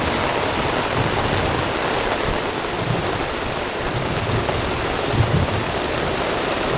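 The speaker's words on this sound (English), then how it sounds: "The rain's just coming sideways. Look, we are drenched here." Heavy wind-driven rain lashes sideways around a camper van during a storm in Croatia, a dense, loud, continuous hiss of downpour with gusty roar and no pauses.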